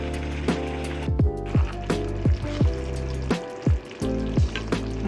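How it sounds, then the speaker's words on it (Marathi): Water being poured into simmering chicken rassa masala in a pan, with a bubbling, frying hiss and repeated wet gurgling bursts, close and fairly loud, with no voices. "आता आपण थोडंसं पाणी याच्यामध्ये घालूया."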